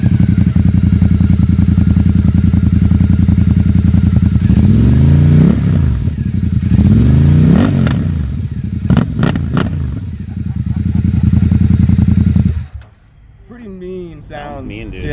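A Ducati L-twin motorcycle fitted with an aftermarket Termignoni exhaust idles loudly up close, with repeated rev swells, before the engine cuts abruptly near the end, leaving quieter clicks and rustles. Voices talk over parts of it.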